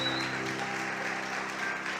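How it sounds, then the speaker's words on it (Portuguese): Church congregation applauding, a dense continuous wash of clapping at even loudness, with a low musical hum underneath. "Aplauda com amor o nome de Jesus."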